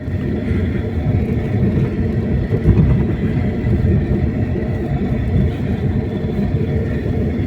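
A car travels over a rough, poor road, giving a loud, steady low rumble with a faint shaking texture that never lets up. One slightly heavier bump comes near the middle, and nobody speaks.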